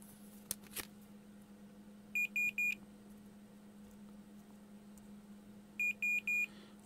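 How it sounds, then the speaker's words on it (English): Two quick bursts of three short electronic beeps from a multimeter in continuity-test mode, checking the tip connection of an audio jack on an MFOS Soundlab synth filter build, clear over a low steady hum. "A multimeter, the one that beeps."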